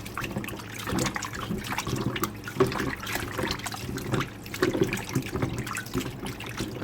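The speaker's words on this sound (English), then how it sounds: "I'm going to get rid of this water and rinse it off with some vinegar." Water splashes and trickles as oxtail is rinsed in a kitchen, then is poured off in a steady, close stream with irregular sloshing and no voices.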